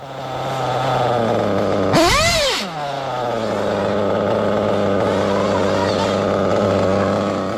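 An old Mugen nitro engine in a Reds Racing R7 RC car drones steadily at a high, buzzing idle, with one sharp rev rising and falling midway, close and loud.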